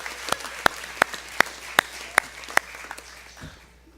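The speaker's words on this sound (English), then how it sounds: "if everyone would please join me in a round of applause for her" Applause at a senior send-off gathering, heard as about seven crisp, evenly spaced claps in a slow steady rhythm, close and fairly loud, fading out at the end.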